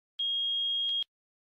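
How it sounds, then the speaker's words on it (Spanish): A multimeter emits a continuity-test beep at a steady, clean high pitch, lasting just under a second and cutting off abruptly, loud and close, with nothing else around it. "Si el multímetro marca 1 y emite un pitido,"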